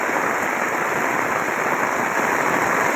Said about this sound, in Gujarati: જોઈ શકો છો વરસાદ તમે